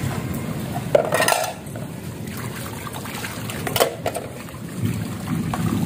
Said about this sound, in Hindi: ये देखें बेगम साहब धो रही है बर्तन।